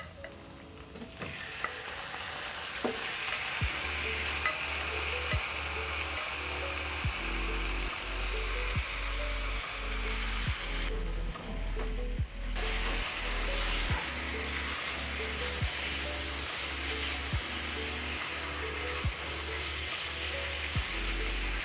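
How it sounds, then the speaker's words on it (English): Pork with its marinade sizzles steadily in a hot stir-fry pan alongside ginger and garlic, a loud continuous frying hiss under a rhythmic game-like music track, with no voices. "Next, I'm going to add my pork together with the marinade."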